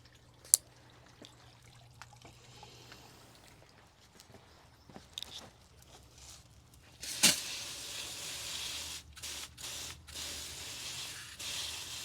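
Garden hose nozzle set to shower spraying water onto a potted plant, starting with a sudden hiss after a few faint drips and clicks, then a steady close spray with brief interruptions.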